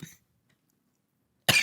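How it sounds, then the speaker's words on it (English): A single sharp cough bursts out loud and close at the very end, after a faint earlier burst and a long stretch of near silence. "it's a real cough now"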